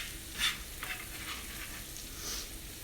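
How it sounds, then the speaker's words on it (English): Food sizzles steadily in a pan of frying onions and bacon grease, a close, even crackle with a few louder pops and spits. "I'm going to drop this in with my onions and bacon grease"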